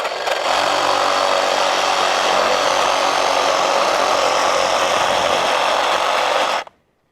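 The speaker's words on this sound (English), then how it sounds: "the reciprocating saw did really well" A reciprocating saw cuts through wire wrapped around a tree as beaver protection, giving a loud, steady buzzing drone that runs without a break for about six and a half seconds and then stops abruptly.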